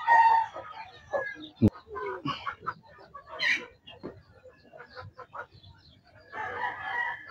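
A mother hen sitting on a clutch of seventeen eggs makes close, short clucks and murmurs in an irregular pattern, with other chicken calls and a sharp click mixed in.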